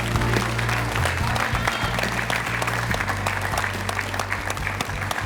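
Steady, dense applause from a studio audience at a televised singing competition, continuing without a break over booming music.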